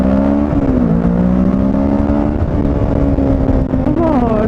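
A motorcycle roars steadily close by while riding, its engine note holding a strong even drone with small pitch rises as it pulls and accelerates, loud throughout with no pauses.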